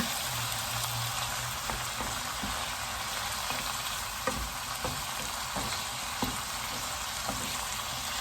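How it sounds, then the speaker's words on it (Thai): Minced pork and carrots are stir-fried in sesame oil with oyster sauce. A constant close sizzle carries on with occasional clicks of the spatula against the pan, and nobody talks. "ผัดจนแครอทสุกอะค่ะนะคะ"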